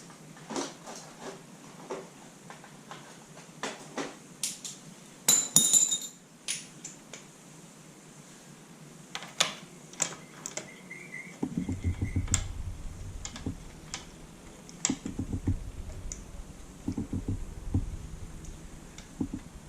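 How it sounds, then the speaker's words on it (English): Metal tools clink and tick sporadically while someone rummages for a spark plug spanner during Honda CBR250R MC19 motorcycle work, and a low rumble joins the faint, close clatter in the latter half. "I suppose we should find a plug spanner"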